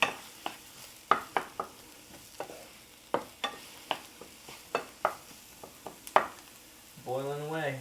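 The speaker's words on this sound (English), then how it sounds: "Boiling away." Gnocchi boiling in a pot for Uruguayan gnocchi, with sharp irregular bubbling pops and clicks close by, and a voice speaking briefly at the end.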